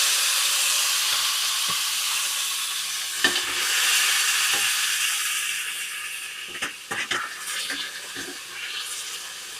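Tomato pieces fry in hot oil for a catering-style tomato chutney, giving a loud, steady, close sizzling hiss. Scattered clinks and stirring sounds come near the end, and there is no speech.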